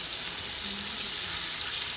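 Liver frying in a pan for liver and onions, a loud, even sizzle that stays steady for the whole moment without any speech.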